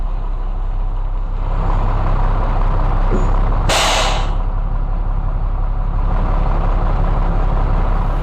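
A truck's air brake lets out one loud, sharp hiss of escaping air as the vehicle stops, bursting briefly over a steady low engine rumble.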